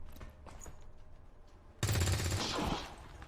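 Quiet game ambience gives way to a sudden loud burst of rapid gunfire that rattles on for about a second before easing off.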